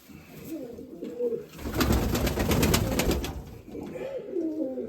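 Mykolaiv pigeons coo close by in soft repeated rolling calls, with a louder burst of flapping or scuffling in the middle before the cooing resumes.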